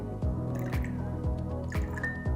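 Alkaline water is poured in small amounts into a drink, giving close, quiet liquid trickles and drips with a few soft splashy squishes repeating at short intervals.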